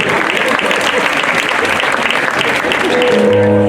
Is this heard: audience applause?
yes